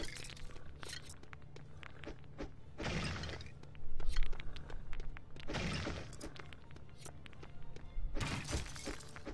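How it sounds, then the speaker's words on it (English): Objects smashing in the Lego City Undercover video game on Nintendo Switch, repeated shattering and breaking crashes in several bursts with thuds and clattering in between, loud and continuous, no talking. "I'm just smashing and smashing."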